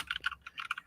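Rapid typing on a computer keyboard, close up, with a quick, uneven run of sharp clicking keystrokes and no talking.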